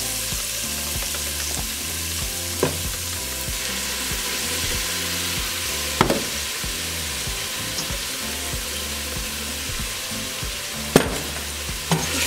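Onions and green chiles frying for beef green chile, a loud steady sizzle heard up close, with a few sharp knocks and scrapes from stirring the pan and no voices.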